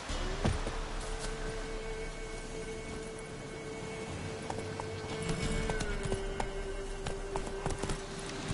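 Horse hooves clip-clop in a steady walking rhythm in The Witcher 3, fairly soft against faint background ambience, with a brief tonal drone running underneath.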